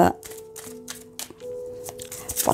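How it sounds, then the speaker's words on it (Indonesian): Tarot-style cards are shuffled and drawn for a reading, with repeated quick papery riffles and flicks in short bursts. A steady tonal hum sits underneath, and a voice is faintly present. "saya akan mengambil 3 kartu untuk melihat"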